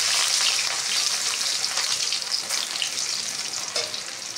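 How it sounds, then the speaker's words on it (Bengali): Ginger sizzles and crackles steadily in oil in a pan up close, a bright continuous frying hiss with no voices. "তারপরে আদাটা দেব"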